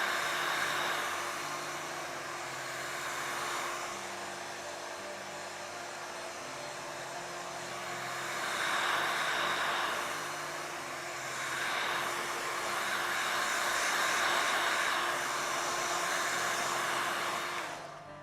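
A hair dryer blows steadily on fresh paint on a chainsword cosplay prop, a continuous close whooshing hiss that swells and eases as it is moved around, with no talking.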